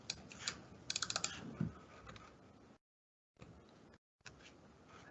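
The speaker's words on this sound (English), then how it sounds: "type a new message." Typing a message on a computer keyboard during a software demonstration: quick, light clicking keystrokes in irregular bursts, close and fairly quiet, broken by two short silent gaps.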